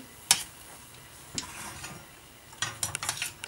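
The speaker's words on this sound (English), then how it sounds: "I'm just going to give these wings a stir" Buffalo party wings are stirred in a bowl: a sharp clatter of utensil against dish, then several quick, light scraping clicks close by. No talking.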